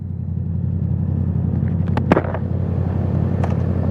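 A Yamaha R6 motorcycle rides onto a highway, its engine a steady low drone under rushing wind, with a brief sharp knock or clatter about halfway through.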